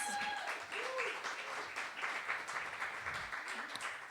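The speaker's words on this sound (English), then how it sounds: "If we could give her a round of applause." A round of applause from an audience at an evening talk event, a fairly faint, steady clapping that carries on for a few seconds.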